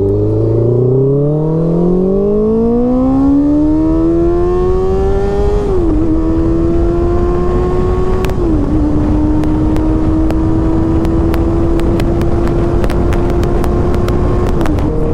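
A vehicle drives along an Indian highway, its engine droning loud and steady with rising pitch as it accelerates, a brief dip around each gear change, and wind and road noise filling the background; no voices are heard.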